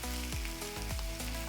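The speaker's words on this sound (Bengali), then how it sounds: "ওই একই তেলে আমরা ডিমগুলোকে ছেড়ে দিলাম।" Eggs sizzle steadily as they fry in hot oil, the same oil just used for frying potatoes, giving a continuous close crackle with no talking.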